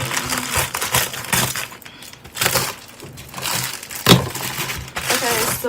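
Plastic packaging holding a Liaza Hair wig is cut and torn open, with close crinkling, crackling and sharp snapping bursts in irregular spurts, alongside a few faint murmured sounds.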